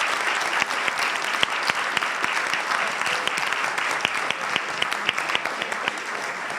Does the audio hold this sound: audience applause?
yes